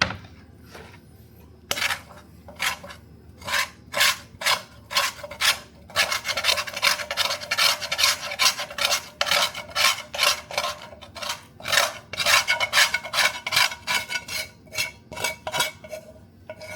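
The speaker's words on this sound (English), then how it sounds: "I love scraping the pan for every last little bit that I can get out of it." A utensil scraping the last bits of egg and cheddar cheese from a pan, in close rapid rasping strokes that come in uneven bursts and grow busier and louder midway, with no talk.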